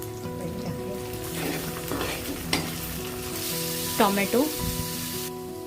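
Whole spices, asafoetida, onion and ginger-garlic paste hit hot oil in a pan and sizzle close up, with a spoon stirring and scraping now and then, under light background noise and one brief spoken word.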